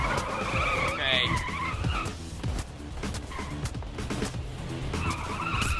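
Tires squeal as a car skids in Payday 2, a loud screeching slide under engine noise and background game chaos, with a brief faint voice.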